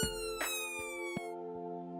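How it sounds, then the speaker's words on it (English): A steady wailing emergency siren, tonal and sustained, with a few brief clunks underneath. "When the siren goes on again, that's your cue to let it go past."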